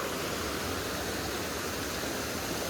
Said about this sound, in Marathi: आता पाणी तिकडून येऊन इकडे मस्त फ्लो हा कारण पाऊस खूप पडता